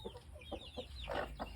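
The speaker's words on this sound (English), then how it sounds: "Oh, they're eating some chicken feed." Farm chickens pecking at chicken feed, heard as faint, scattered clucks and soft pecking sounds with low background rumble at feeding time.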